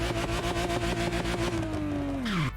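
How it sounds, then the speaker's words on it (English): A retro car engine in the racing game The Crew Motorfest revs hard with a buzzy, pulsing idle-to-high roar, then the pitch drops sharply as the engine winds down, played alone without talk. "they've given us an engine sound"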